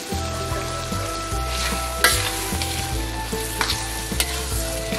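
Bopis made from pig's innards and seasoned with ground black pepper fries in a pan with a loud, steady sizzle, while a spoon stirs it with occasional sharp clicks and scrapes.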